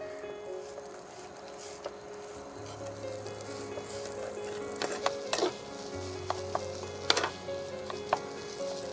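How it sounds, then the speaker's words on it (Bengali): Green chillies for bombay chilli fritters frying lightly in a pan, a soft, low sizzle under occasional sharp scrapes and knocks of a spatula stirring, growing a little busier toward the end, with no speech. "দিয়ে এটাকে নাড়িয়ে নিতে হবে মানে একটু ভেজে নিতে হবে হালকা বেশি না"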